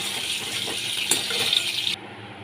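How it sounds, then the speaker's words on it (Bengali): Eggs frying in a pan give a steady, close hiss of sizzling oil with a few faint scrapes and clinks, easing off near the end. "ডিমগুলোকে আমি ভেজে নিচ্ছি"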